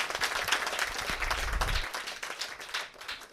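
An audience at a Varkari education society event breaks into vigorous hand clapping, the applause strong at first and then thinning and fading toward the end.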